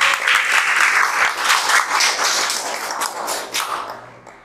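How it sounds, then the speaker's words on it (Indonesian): Audience applause fills a school hall during a student event, loud dense clapping from many hands that holds steady, then slowly thins and fades toward the end. "Tepuk tangan dulu dong."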